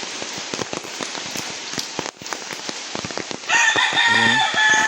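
Heavy rain pours down in a backyard where chickens are kept, a dense patter of drops striking surfaces nearby, and toward the end a rooster crows loudly over the steady downpour.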